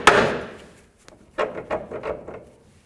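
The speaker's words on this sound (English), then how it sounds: "Now I'm just going to give this a couple loving bonks to break it free." A hammer striking to break free the idler arm on a 1992-2000 Chevy Tahoe: one ringing blow, then a quick run of four or five sharper knocks, close and with no voices.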